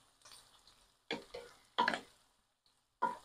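Garlic sizzles and is stirred in a pan while cooking for pork binagoongan, with quiet scraping strokes breaking into a few louder bursts of stirring, no voices.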